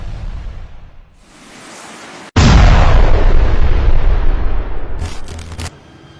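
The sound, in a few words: Javelin anti-tank missile exploding on armored vehicle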